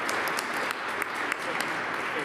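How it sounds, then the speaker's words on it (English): Applause at a cathedral annual meeting, a steady wash of many hands clapping at moderate, somewhat distant level, with a few sharper claps standing out through the roughly two-second stretch. "Let's give her a round of applause."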